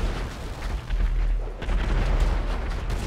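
Gunfire from enemy boats in GTA 5 roleplay, a dense, continuous barrage of booming shots and rumbling impacts that pound on without pause, loud and close, with no talk over it.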